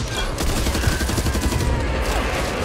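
Rapid bursts of gunfire from the zombie shooter game Back 4 Blood, a dense, loud fusillade of overlapping shots filling the whole moment without pause.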